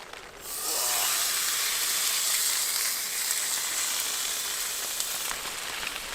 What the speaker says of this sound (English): I don't want to burn these garlics. Just sort of saute them a little bit.